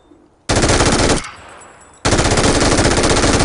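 An MG3 machine gun in PUBG fires two long, continuous rapid bursts at close range, loud and dense, with a brief fading gap between them.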